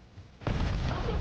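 A grenade explodes in Call of Duty, a sudden loud blast that follows a quieter stretch and leaves a sustained rumbling roar afterward.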